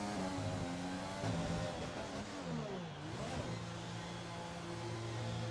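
An F1 2020 race car in the video game at the Hungarian Grand Prix, its engine droning steadily with shifting pitch and a brief dip as it slows for the pit lane, loud and continuous.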